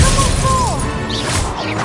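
A spell impact in Hogwarts Legacy, a sharp magical crash and whoosh with bright swept tones over a busy, continuous game soundscape, no talking.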